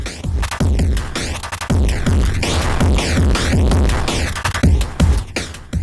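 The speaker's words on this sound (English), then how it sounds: "the break knob will change the volume of the sound up to adding saturation and distortion" A loud Amen drum break, heavily saturated and distorted by an Ezeptocore sample mangler, chopped and throbbing with gritty crunch and bursts of high-end grit, continuous throughout.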